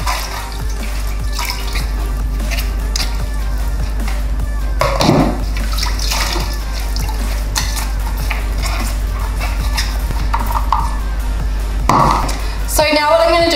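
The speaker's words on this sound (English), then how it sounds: "Squeeze any excess water out, give it a shake." Dyson vacuum part being shaken and squeezed over a basin of filthy water, wet splashing and dripping with a couple of sharper sloshes, close and fairly loud over a steady low hum.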